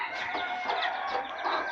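Several chickens, including a hen and a rooster, cluck and murmur close by in a henhouse in a steady, busy chorus, with no talking.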